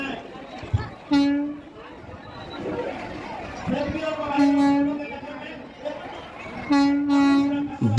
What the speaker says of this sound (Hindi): जिस ट्रेन का हम सबको बेसब्री से इंतजार था वो हमारे बीच कुछ ही क्षण में पहुंचने वाली है।